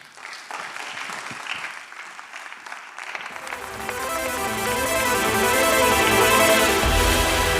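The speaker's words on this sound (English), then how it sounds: "I hope that you will give them a huge round of applause because they really deserve this award" Audience applause for award recipients at a democracy forum in a music theatre in Athens, starting as scattered clapping and swelling into a full, sustained ovation from a large crowd.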